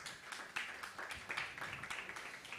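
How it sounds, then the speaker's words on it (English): Faint, brief applause from a workshop audience, a small cluster of scattered hand claps pattering quietly in a room. "So give a round of applause for Kimanzi as he comes."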